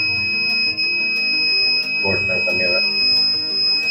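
A CCTV DVR recorder sounds a steady high electronic alarm tone with a hard disk not detected, continuous beneath nearby talking.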